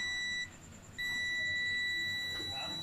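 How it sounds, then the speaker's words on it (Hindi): A multimeter gives a steady high continuity beep while a submersible motor control box switch is tested, sounding in two long tones broken by a short gap, close and clear over faint room noise. "देखें, मीटर बीप भी कर रहा है"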